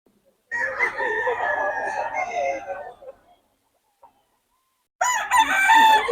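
Gamefowl roosters crow loudly and close by in two long calls separated by a short silence, with a clucking, voice-like quality to the second.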